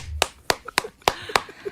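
A single person claps hands in a broadcast studio during a political panel debate: five sharp, evenly spaced claps, close and crisp, with faint room noise between them.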